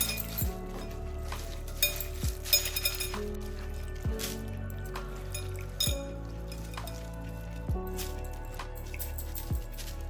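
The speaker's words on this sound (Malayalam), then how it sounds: "ജസ്റ്റ് ഒന്ന് കഴുകിയെടുത്തിട്ട് സ്ട്രെയിൻ ചെയ്യുക" Dried shrimp being washed in water and strained, with light clinks of a container and spoon and soft sloshing, repeated in quiet, irregular bursts with no voices.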